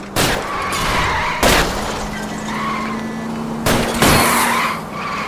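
Several sharp shots fired at a fleeing car's tires in L.A. Noire, heard as three loud broadband cracks spread over a few seconds above a steady engine drone and tire noise, with no talking.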